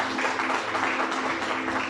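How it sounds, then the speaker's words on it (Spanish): A church congregation claps together in steady, dense applause throughout, close and fairly loud, with a low hum underneath and no clear voices. "Dale un aplauso al Señor con todo tu corazón."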